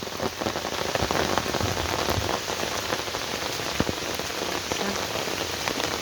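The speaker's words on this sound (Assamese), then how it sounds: "কিন্তু হঠাতে বৰষুণ দি দিলে" A sudden downpour in the rainy season patters densely and steadily on surfaces nearby, a continuous close hiss of drops with no voices.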